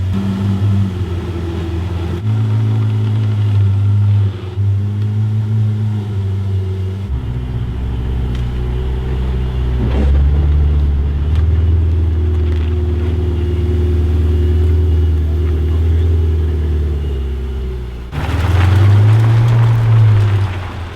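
A brand-new Ferrari 488 GTB on its first miles edges through a very tight doorway, its engine a low, steady idling drone that swells into a louder rev near the end, with no voices.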